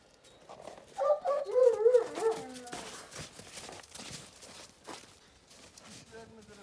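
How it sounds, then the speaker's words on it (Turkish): A Kangal dog makes a few whining, yelping sounds up close, followed by shuffling movement and scattered noises, with people talking quietly nearby. "dediğimiz Cüneyt abinin karo köpeğini çıkarttık"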